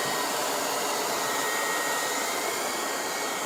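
A Dreame stick vacuum fitted with a soft Fluffy roller brush picks up sugar, giving a steady, loud motor whir with broad airy hiss that holds unchanged throughout, with no voices.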